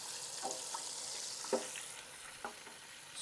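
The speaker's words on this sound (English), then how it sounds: "The sizzle's going" Hot oil sizzles steadily with a broad hiss as calamari fries, punctuated by a few soft clinks and stirring knocks close by.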